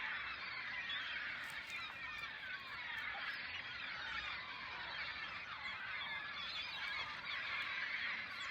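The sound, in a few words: birds honking, goose-like calls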